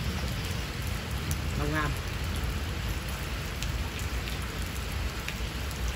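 Steady rain falls in Long An, a continuous hiss of drops on surfaces with a brief chirping tone partway through and someone speaking briefly.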